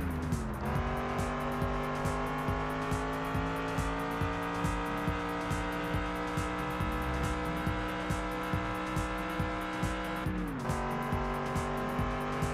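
A car in the racing video game Test Drive Unlimited accelerates hard, its engine note climbing steadily through the gears with one shift dip, loud and continuous with a faint ticking rhythm.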